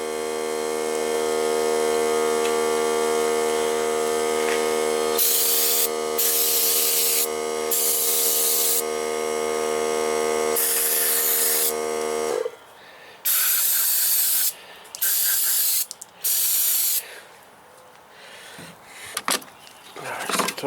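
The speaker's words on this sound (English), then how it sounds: "so took and sprayed that out." Loud, close spraying hisses in repeated bursts while cleaning out a cheap Murray lawn mower, starting with a steady hum under the spray and then switching to short, choppy blasts separated by brief gaps.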